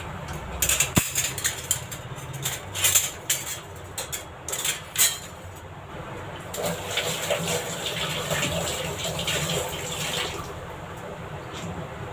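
Curry leaves for rasam get rinsed under running water in a home kitchen, with a few clinks and handling knocks early on, then a steady close rush of water.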